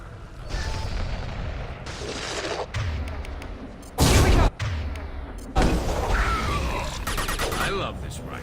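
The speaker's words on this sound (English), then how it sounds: "I love this rifle." Rifle gunfire in the video game Mass Effect 2, with sustained bursts of rapid shots over a dense game soundscape, broken by a loud blast midway and a heavy impact afterward.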